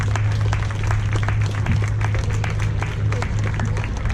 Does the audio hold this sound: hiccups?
no